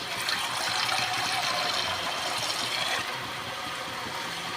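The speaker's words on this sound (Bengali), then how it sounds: "একটু জল নিয়ে নিই।" A little water is poured into cooking food in a pan, a dense steady rush of splashing and hissing that eases off after about three seconds into a quieter sizzle.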